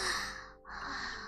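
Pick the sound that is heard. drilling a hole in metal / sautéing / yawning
yawning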